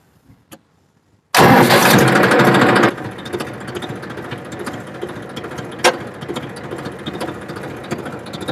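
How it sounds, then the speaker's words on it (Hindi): After a few quiet clicks, a tractor engine cranks loudly to life, then settles into a steady rattling idle. "तो अब मैं ट्रैक्टर को स्टार्ट करता हूं"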